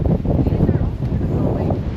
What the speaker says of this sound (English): So it's really windy out here.